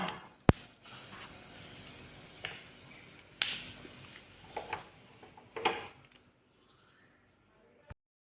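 A spoonful of turmeric goes into hot oil in a pan with fish heads, giving a faint, soft sizzle and hiss with scattered small ticks and crackles that fades to near silence at the end.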